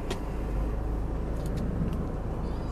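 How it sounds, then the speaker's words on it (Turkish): A Chevrolet Captiva engine idles after being started, a steady low rumble running loud and unbroken through the whole stretch with no talk over it. "Aracı çalıştırdım."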